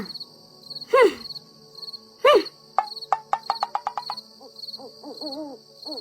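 An owl hoots twice with deep, wavering calls, followed by quick hooting notes, over a steady background of chirping crickets in a cartoon.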